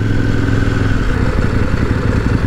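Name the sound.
adventure motorcycle accelerating, engine braking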